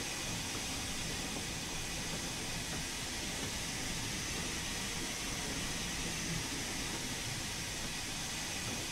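Steam locomotive on a Cornwall railtour in Train Sim World 3, heard as a steady, dense hiss and rumble of the running engine, continuous and fairly loud throughout with no voices.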